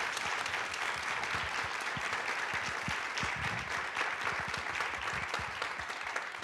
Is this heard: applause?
yes